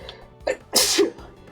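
A single loud sneeze, preceded by a short sharp intake of breath, close to the microphone during an improvised comedy session.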